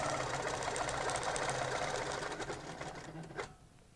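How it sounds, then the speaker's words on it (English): Sewing machine stitching a curved line along a concave curves ruler, a rapid, even mechanical whir with fine needle ticks, close and steady, slowing and stopping near the end. "I'm using that same mark on my ruler to line up and stitch around"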